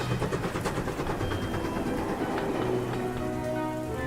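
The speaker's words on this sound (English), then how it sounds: "the rain started pouring." Heavy rain pours down steadily, a dense, loud patter filling the whole clip with no voices.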